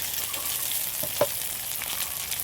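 Tomatoes and three green chilies go into hot oil over lightly browned chopped onion, sizzling in a steady close hiss with one brief sharper pop midway.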